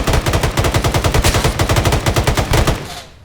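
Rapid automatic gunfire in the military video game ArmA, loud and close, fires a long, steady burst of evenly spaced shots that ends abruptly.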